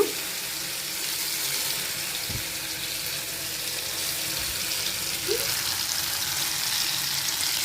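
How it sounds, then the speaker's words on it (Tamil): Mutton shami kababs fry in a pan with a steady, even hiss of hot oil, with a couple of faint clinks and bumps along the way. "இப்போது இது வந்து வறுத்து எடுத்து காட்டுறேன்"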